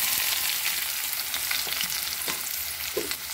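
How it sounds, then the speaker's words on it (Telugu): A large chopped onion fries in plenty of hot oil for prawn curry, a loud, steady sizzle close by with scattered pops and stirring scrapes throughout. "ఆయిల్ హీట్ ఎక్కాక ఒక పెద్ద సైజు ఉల్లిపాయ కట్ చేసి వేసుకోవాలి."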